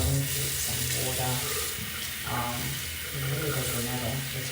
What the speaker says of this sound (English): So I'm just gonna go into some water.